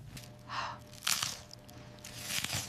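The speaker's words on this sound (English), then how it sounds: "Oh my goodness, that crunch, that juicy chicken inside." Crunchy bites into buttermilk-brined, double-dredged crispy Southern fried chicken drizzled with honey butter: three or four distinct close crisp crunches over a couple of seconds, quiet and without talk.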